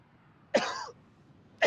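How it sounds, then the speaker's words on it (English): Two short, close coughs from a player during a PC Warframe gaming stream, each a sharp burst with a brief tail, separated by about a second of quiet. "I cough, not sneeze."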